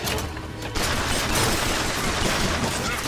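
Gunshots from a firefight in the video game Bioshock Infinite: a loud, dense burst of firing and impacts that starts after a brief lull and carries on steadily to the end, with no talking.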